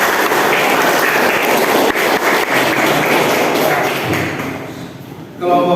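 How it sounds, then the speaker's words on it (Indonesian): A classroom of students applauds a student group at the end of their presentation, giving steady, dense clapping that fades toward the close. "Beri tepuk tangan untuk"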